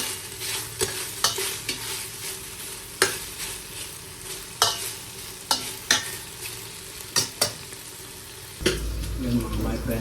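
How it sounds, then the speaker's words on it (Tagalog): Food sautéing in a hot frying pan for a Filipino ginataang gulay dish, a steady sizzle broken by repeated sharp scrapes and clacks of a spatula, close and continuous, ending in a louder burst of frying. "Pag-iigisa."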